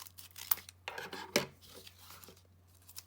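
Scissors snip through origami paper in a few quiet, sharp cuts with soft rustling between them, close by in a hushed room.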